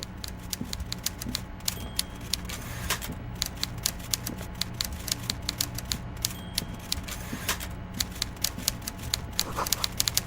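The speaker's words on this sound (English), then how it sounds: "Oh, typewriter." Typewriter keys clacking in the video game Disco Elysium: The Final Cut, a fast irregular run of sharp close key strikes with small mechanical clunks over a low steady hum.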